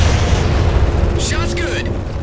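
A heavy cannon shot from a vehicle in the video game Halo 4 lands amid a constant loud rumbling battle din, a sharp high burst cutting through near the middle.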